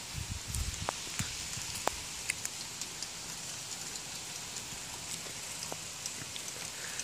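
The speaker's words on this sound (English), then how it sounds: "It's only dark out here because it's raining." Rain falls outdoors with a steady broadband hiss and scattered close drop taps and splashes throughout, moderately quiet.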